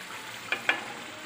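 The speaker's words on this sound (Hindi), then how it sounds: "तड़का जो है वो अच्छे से फ्राई हो गया है, ऑयल भी सेपरेट हो गया।" Tadka tempering sizzles in hot oil for red lentil (masoor) dal, a soft, steady hiss broken by two quick sharp pops close by.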